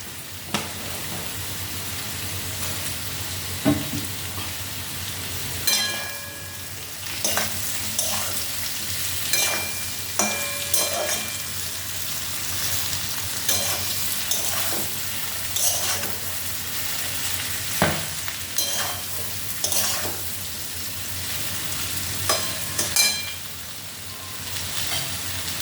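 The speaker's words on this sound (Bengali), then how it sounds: "এখন এই দুটোই বেশ ভালো ভাজা হয়ে গেছে।" Ground chili spice paste frying in a pan, a continuous close sizzle broken by frequent sharp scrapes and clinks of stirring throughout.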